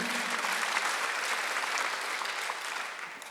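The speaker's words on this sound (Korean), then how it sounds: "박수하세요" A church congregation applauds in a dense, continuous roar of clapping that holds steady and tapers slightly at the end.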